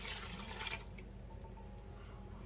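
Water pours into a pot holding basmati rice, a soft continuous splashing rush that is strongest at the start, then settles into a quieter steady trickle.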